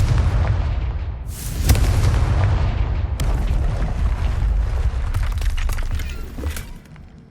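A Confringo blasting spell explodes in Hogwarts Legacy, landing as a loud, full-bodied boom with a sharp crack around a second and a half in, followed by rumbling debris and scattered crackles that fade near the end.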